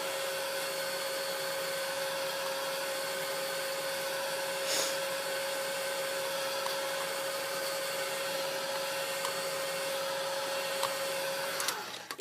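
A heat tool blows steadily as it dries damp stamped pan pastels, a constant whining hum with a high tonal whine, close and moderately loud, running unbroken until it cuts off at the end.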